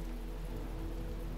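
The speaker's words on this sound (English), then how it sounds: "it's raining" Rain in The Talos Principle video game falls as a steady, even hiss of drops with a low rumble underneath, continuous and fairly close, with no talking.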